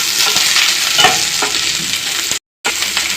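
Nalleru (adamant creeper) stems frying in a pan give a steady, loud, close sizzle with stirring scrapes, cut by a short silent gap before the frying resumes.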